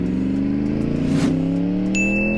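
Yamaha R1 motorcycle engine revving hard during a wheelie on a night ride, a loud, close, steady drone that rises in pitch, with a brief electronic tone near the end.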